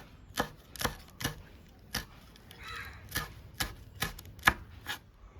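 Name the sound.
chopping green chillies with a knife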